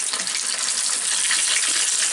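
Pre-boiled chicken pieces for a wedding-style chicken fry sizzle in hot oil, a dense, steady, hissing crackle that stays close and loud with no voices.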